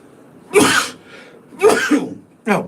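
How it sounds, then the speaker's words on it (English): Three short, explosive bursts of a person sneezing and clearing the throat, close and fairly loud, separated by brief pauses. "I got a big sneeze coming on"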